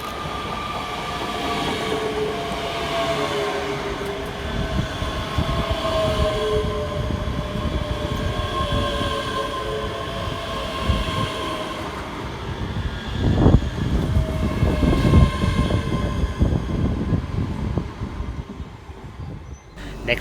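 Two coupled ScotRail class 385 electric units arrive at Haymarket station in Edinburgh, rolling in with a loud, continuous rumble and rising wheel noise, rhythmic rail clicks and a faint brake squeal as they slow, no voices.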